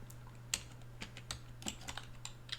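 Quiet, close computer keyboard typing during a software install on Windows, a quick irregular run of soft key clicks over a low steady hum.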